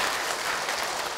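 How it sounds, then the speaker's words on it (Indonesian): A studio audience at an Islamic preaching TV show breaks into steady, dense applause, a continuous burst of clapping heard on its own for about a second. "Tepuk tangan untuk Ibu Kus."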